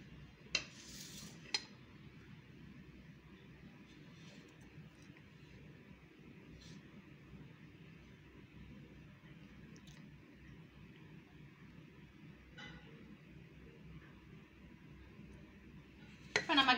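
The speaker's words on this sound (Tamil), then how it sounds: "இப்ப நம்ம கிளறிடலாம் டேஸ்டான தயிர் சாதம் கிளறியாச்சு" A spoon stirs curd rice with salt in a pot, giving faint scraping and occasional clinks against the metal, quiet and close, with a few sharper clinks near the start and end.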